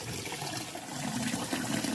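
Beans being rinsed under running water in a home kitchen: a steady, loud rush of water close by, with no talking.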